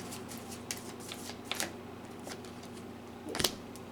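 A deck of Soul's Journey oracle cards is shuffled close by, soft papery riffles and flutters scattered through a quiet room, with a louder burst of rapid flicking near the end.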